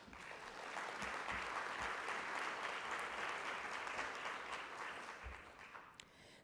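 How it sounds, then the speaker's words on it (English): Audience applause at a conference keynote, a steady, even wash of many hands clapping at a distance that holds for about six seconds before cutting off. "Give these folks a round of applause."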